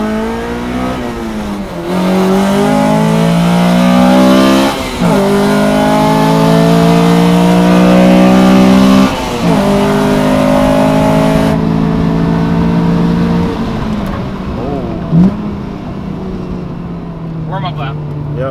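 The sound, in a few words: Honda Civic Si FD2 race car on warm-up lap at track day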